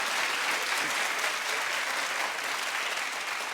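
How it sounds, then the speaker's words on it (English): Studio audience at a daytime television talk show breaks into steady, dense applause that holds at an even level for a few seconds, with no voice over it. "clap if you agree with me"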